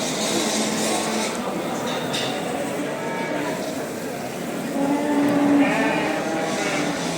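Sheep and cattle bleat and moo amid steady crowd noise at a busy livestock market in Aksaray, Turkey, with one louder drawn-out call standing out.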